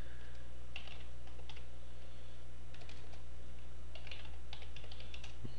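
Computer keyboard typing while writing a VBA macro description, short clusters of crisp key clicks separated by pauses, close and clear over a steady low hum, with no talking.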